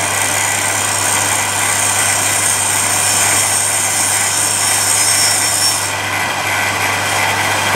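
Bench grinder with a hard scoop stone grinding steadily, giving a loud, constant motor drone with a high whine that drops away near the end.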